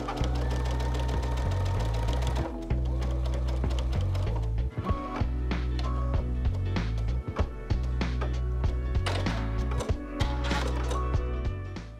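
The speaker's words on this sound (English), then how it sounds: "So let's get started with our sewing." A sewing machine runs steadily and close, stitching a quilt-as-you-go French braid block in a continuous mechanical chatter with one brief pause partway through.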